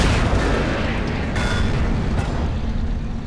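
Artillery fire and explosions in the Company of Heroes video game, a dense continuous rumble of booms and blasts that stays loud throughout with no talking.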